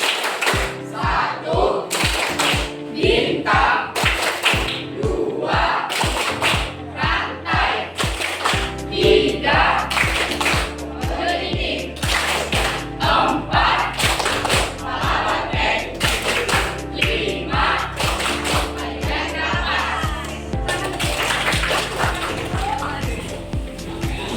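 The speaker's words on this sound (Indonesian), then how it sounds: "Tepuk Pancasila." Primary pupils in a classroom perform the Tepuk Pancasila routine, a long run of rhythmic group claps and thumps in changing patterns, with voices chanting along between the beats.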